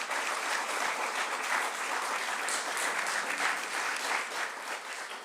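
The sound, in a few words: audience applause in council chamber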